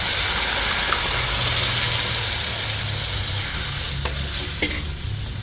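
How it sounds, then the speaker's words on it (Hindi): Loud, steady sizzling of hot oil as spinach dal is poured into a tempering of spices and chillies and stirred in a pan, with a few clinks of a utensil against the pot near the end. "और अब ये दाल इसमें मिला देंगे।"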